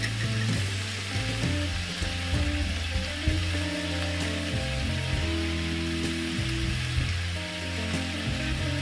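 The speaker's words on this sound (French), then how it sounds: "Alors viande hachée que je veux bien faire rôtir." Minced organic meat roasting in a pan sizzles in a steady, close, dense crackle throughout, with a low rumbling hum underneath and no talking.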